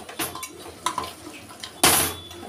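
A spoon scrapes and clinks against a metal pot while mutton korma masala is stirred, several short metallic knocks followed by one louder scraping clatter, close and alone.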